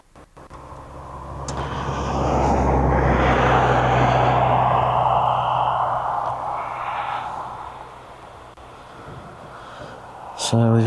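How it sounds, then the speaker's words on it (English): A TAP airliner inbound from Lisbon approaches East Midlands Airport, its engine roar swelling to a broad steady rumble, holding for several seconds, then slowly fading into distant background noise. "that's a new one for us at East Midlands, TAP. Inbound from Lisbon"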